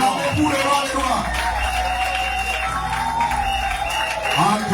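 A church congregation at a revival service applauds and cheers continuously as a loud crowd wash while a voice speaks over it.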